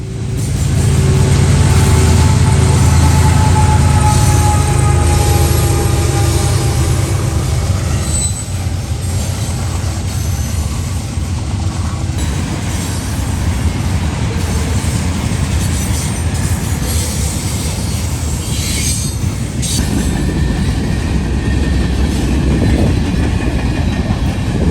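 A Norfolk Southern freight train with a Kansas City Southern ES44AC distributed-power unit paired with an NS ES44C4-type locomotive rolls past loud and close, engines rumbling under rail-car clatter and wheel noise for the whole stretch, with no talk.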